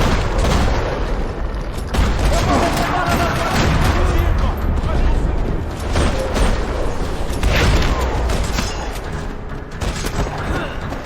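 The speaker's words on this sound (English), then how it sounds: "Another parking lot rattling with gunfire." Heavy gunfire in a parking lot in the video game Max Payne 3, loud continuous bursts and booming shots layered densely with mechanical clatter, staying intense from start to finish.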